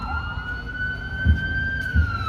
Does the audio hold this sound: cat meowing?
no